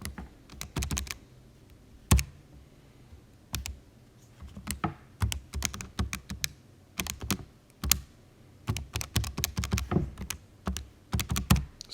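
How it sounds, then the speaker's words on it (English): Quick tapping on calculator buttons comes in irregular bursts of crisp clicks, close and fairly quiet, with short pauses between runs of keypresses. "Sorry while I type here on my calculator."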